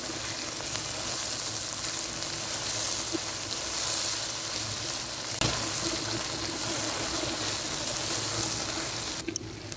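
Okra and onions half-frying in a pan give a steady, even sizzle and hiss, close and continuous with no talk, broken only by a brief clatter near the end.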